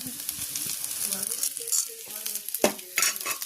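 Small shallots and garlic frying in oil with mustard seeds, a close bright sizzle punctuated by spoon-stirring scrapes and sharp pan clinks, no talking.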